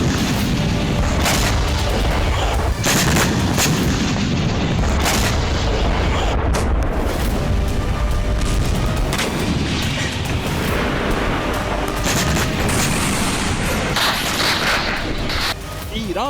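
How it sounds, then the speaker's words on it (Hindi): Iranian Fattah hypersonic missile strikes explode over Israel at night, a dense, loud wall of booms and rolling rumble that never lets up, with a voice partly audible beneath the blasts. "पहली बार ईरान की फतह मिसाइल इजराइल पर कहर बनकर बरसी।"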